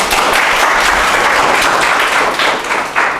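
An audience at a teaching session claps loudly and continuously, a thick wash of many hands applauding close up that stays full for a few seconds before tapering slightly.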